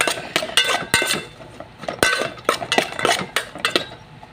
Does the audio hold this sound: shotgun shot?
no